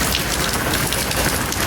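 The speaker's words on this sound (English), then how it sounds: "The wind and rain were so strong that it was impossible to ride a bike" Heavy rain from Typhoon Danas pours down in Tainan, Taiwan, a dense, loud, continuous roar of rain beating on surfaces, with no voices.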